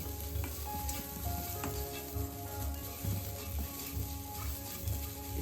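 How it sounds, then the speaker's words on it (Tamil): Grated coconut roasts in ghee in a pan for rava laddu, giving a steady soft sizzle with faint scraping stirs throughout, heard alone at low volume. "கொஞ்சம் நெய்ப்பு சேர்த்துட்டு தேங்காய் துருவலையும் நம்ம இதில் சேர்த்து ரோஸ்ட் பண்ணிக்கணும்."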